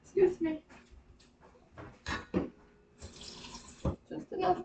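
Water runs from a kitchen tap into a bowl of chili spices in short spurts, with clinks of dishes between, while a person talks over it at close range.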